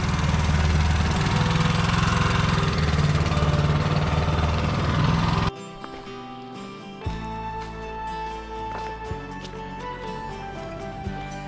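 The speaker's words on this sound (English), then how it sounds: "this little oil rig, if that's what it is, I don't really know. Pumping away." A small oil rig pump in Wayne National Forest chugs with a steady mechanical engine rhythm for about five seconds, then gives way to quieter, intermittent sounds.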